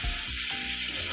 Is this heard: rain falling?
no